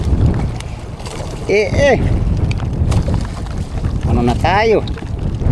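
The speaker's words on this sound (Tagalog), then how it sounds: "Malakas ang hangin." Strong wind roars steadily across the microphone at sea while tuna fishing in the Pacific, with water and a boat engine beneath and a couple of people speaking briefly over it.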